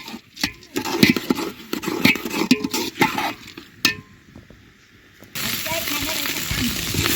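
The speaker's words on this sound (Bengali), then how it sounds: "তো এই আমি চাল দিয়ে দিচ্ছি, নেড়ে চেড়ে ভালোভাবে কষিয়ে নেব চালটা" Rice and lentils stirred and roasted in hot oil in a pot for vegetable khichuri, giving a steady sizzle with scraping spoon and pot clatter, loud and close, which drops briefly and then returns as a softer frying hiss.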